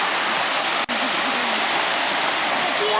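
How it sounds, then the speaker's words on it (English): A waterfall rushes with a dense, steady hiss close to the microphone, cut by a brief dropout, with faint voices underneath. "And a waterfall in its all glory."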